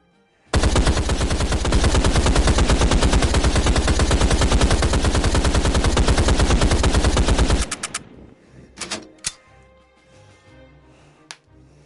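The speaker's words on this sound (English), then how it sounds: "Fire your remaining ammunition" Sustained machine gun fire in a PlayStation VR shooter, a loud, rapid unbroken burst lasting about seven seconds that cuts off abruptly, followed by a few faint clicks and thumps.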